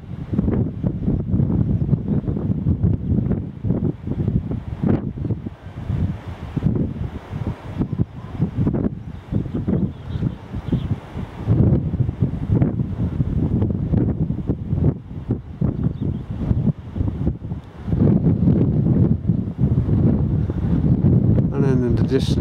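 Gusty wind blowing across the hillsides of Swaledale, buffeting loudly and continuously with rushing, roaring surges that fill the whole stretch, broken by brief lulls.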